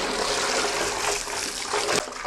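Clothes are rinsed in a bucket of water, with close sloshing and trickling as the fabric is swished and lifted, and water splashing in short surges.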